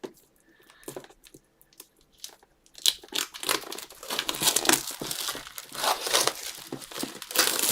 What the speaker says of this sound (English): I'm going to take the plastic off and we're going to have a look inside